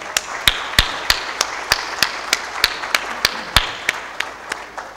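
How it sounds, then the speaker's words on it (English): An audience claps to mark Pakistan's 70th birthday, with a steady series of sharp, evenly spaced claps sounding fairly close over a soft, diffuse background murmur. "Can we have a clap for Pakistan?"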